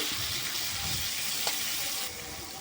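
Small spiced fish fry in a pan over low gas flame after cumin, giving a steady close sizzle with a faint clink of stirring.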